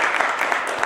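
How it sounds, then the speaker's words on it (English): Audience applause at a talk on Jewish community life, a dense burst of many hands clapping at once, steady and fairly loud through a brief moment with no pauses. "Let's give him all a round of applause."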